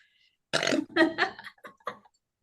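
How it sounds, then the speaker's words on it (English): A single close, loud burp from a person, a drawn-out gurgling belch lasting about a second and a half that breaks into a few shorter voiced pulses before stopping. "Let me burp."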